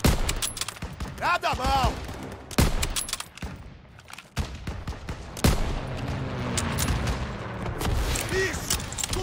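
Gunfire bursts and rapid automatic fire crackle through a Call of Duty WWII battle while storming a fortified church, with loud shots and explosions spread across the scene and shouting voices over the top.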